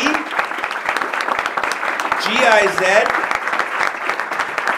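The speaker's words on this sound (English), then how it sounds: "let me have you continue your applause for our funders" A conference audience at a global congress on intellectual property and public interest claps continuously, while a presenter speaks over the applause.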